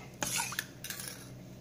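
A spoon scrapes and clinks against a bowl while rava dosa batter with green chillies, curry leaves and coriander is mixed, a few quick close strokes then quieter stirring.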